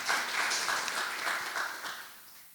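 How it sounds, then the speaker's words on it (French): An audience at a sustainable-food round table claps briefly for a speaker, a short burst of moderately loud applause that fades out after a couple of seconds. "On peut l'applaudir aussi, oui."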